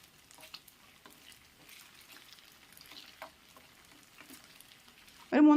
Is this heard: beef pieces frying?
yes